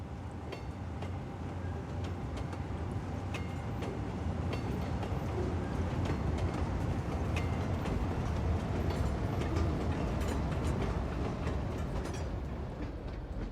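Cargo train running in the video game Cities Skylines 2, a continuous loud rolling rumble with faint rhythmic clicking of wheels over track, steady throughout.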